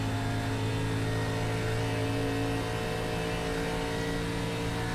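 Race car engine from an ARCA Menards Series stock car in an iRacing sim race at Charlotte Motor Speedway, a loud, steady high-revving drone held throughout at constant pitch, with no talk over it.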